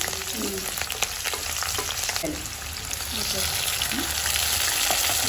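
Onion, green chillies and curry leaves fry in a pan with a loud, continuous crackling sizzle, close by, with occasional scraping stirs.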